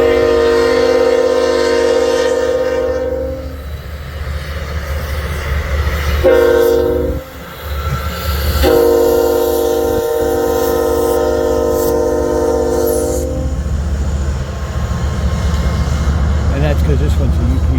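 Union Pacific freight train hauling a VIA Rail passenger train passes with loud, long multi-tone horn blasts over a steady rumble of engines and cars, with a person talking nearby.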